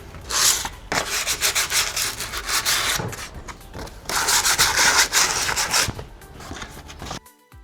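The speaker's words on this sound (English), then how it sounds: "I'm just gonna sand down everywhere, especially the tips" Steady hand sanding of an old elk antler, a loud close rasping scrape in repeated long strokes with brief pauses between passes.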